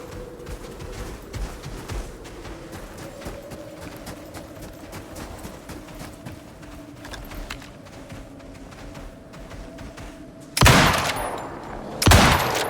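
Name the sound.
gunfire in video game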